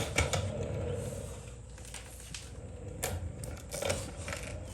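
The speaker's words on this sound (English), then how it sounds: "I'm using their locking head adjustable socket or ratchet, excuse me, to put this back on" A locking head adjustable socket ratchet tightening a part on a 2006 Yamaha V-Star 1100 motorcycle gives close, irregular clicking and rasping strokes against a busy workshop background.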